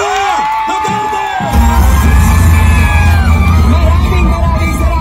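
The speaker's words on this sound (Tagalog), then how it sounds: "Labongin ng mainit na palakpak at sigawan, Vice President Sara Duterte!" A dense, loud political rally crowd in Manila roars, cheers and claps continuously for the Vice President, swelling after an announcer's voice and staying as a sustained wash of noise.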